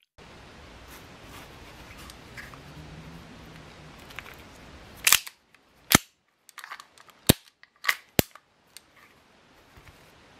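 An Army Armament R45 airsoft pistol, a compact 1911-style gun, fires about six sharp, loud single shots at uneven intervals, each a crisp snap standing alone against near silence after a few seconds of low background hiss.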